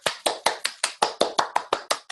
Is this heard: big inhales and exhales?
no